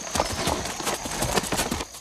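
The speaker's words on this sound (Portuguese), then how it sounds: "Doutor Aloísio monta agora uma égua da raça Campolina, também desenvolvida em Minas Gerais." Hooves of a Campolina mare, a saddle breed from Minas Gerais, clip-clopping in a steady quick rhythm while she is ridden, close and fairly loud with no talking.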